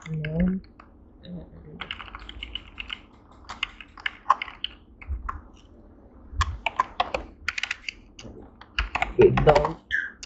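Fingers typing C code on a computer keyboard, a dense run of close clicking keystrokes in bursts with short pauses, a voice speaking briefly among them.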